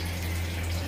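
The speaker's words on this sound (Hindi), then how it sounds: "पानी बंद कर दो, भूल गए बंद करना" Water runs steadily from a kitchen tap in a home, a continuous hiss-like stream with a low hum beneath, without talking.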